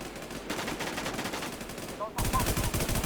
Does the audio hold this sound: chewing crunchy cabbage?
no